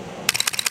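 Nikon F4 film camera shutter firing in continuous high mode: a rapid burst of about six close, crisp mechanical clicks in quick succession, alone without talk.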